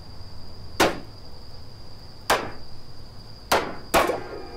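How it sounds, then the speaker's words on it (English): Four sharp hammer impacts in a video game, spaced irregularly and fairly loud over a steady high-pitched background tone and low ambient hum, with no talking. "Use a hammer."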